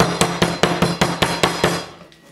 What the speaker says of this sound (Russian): ее поколотим крупной частью молотка. Она так будет мягче.